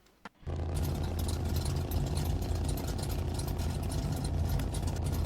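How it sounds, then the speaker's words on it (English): After a brief crank, a Plymouth Satellite V8 engine fires up and settles into a loud, steady rumbling idle with a deep, throbbing exhaust note. "let's fire it up and hear this thing"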